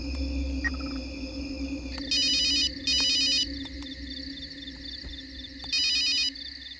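A phone rings in short repeated electronic bursts over a low background hum, loud and close, three rings in succession with gaps between them, no voices.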